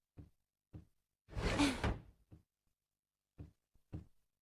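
A door closes in a cartoon household, marked by several soft knocks and thumps around a longer whooshing slide, spaced out over a few seconds with no talk.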